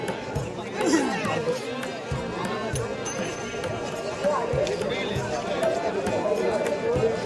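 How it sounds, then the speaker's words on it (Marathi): Crowd chatter hums at the crowded Anganewadi Bharadi Devi temple fair in Konkan, a steady murmur of many voices with footsteps and a nearby person talking. "आणि किती गर्दी आहे बाबा"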